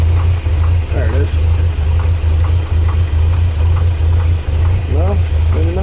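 A 1964 GMC truck engine idles with a steady low rumble and a faint rhythmic knock, close by, with a few slight throttle changes.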